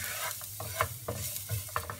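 Garlic cloves chopped small drop into hot oil in a pan and sizzle softly, with a few faint stirring scrapes and clicks over a continuous low fry.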